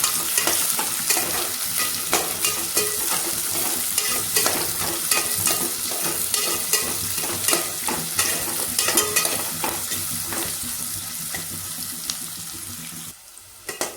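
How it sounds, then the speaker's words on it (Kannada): Onion and green chilli frying in a pan for tomato bath: a steady loud sizzle with repeated scraping strokes of a spoon stirring, close up, no talking. "ಈರುಳ್ಳಿ ಮತ್ತು ಮೆಣಸಿನ್ಕಾಯಿ ಸೇರಿಸ್ಕೊತಾ ಇದ್ದೀನಿ. ಚೆನ್ನಾಗಿ ಮಿಕ್ಸ್ ಮಾಡ್ಕೋಬೇಕು."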